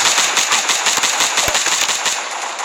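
Sustained rapid automatic gunfire in the mobile shooter Guns of Boom, a dense, steady stream of loud, close shots with no pauses for almost three seconds, tapering slightly at the end.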